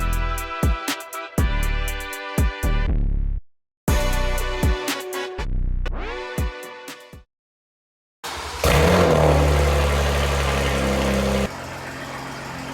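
A car engine idles with a loud, harmonic rumble, cutting out briefly twice before a rougher, noisier idle takes over.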